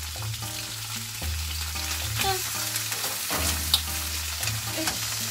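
Chicken wings frying in sesame oil in a pan, a steady loud close sizzle with bursts of crackle, running over a low droning hum and a repeating musical pattern.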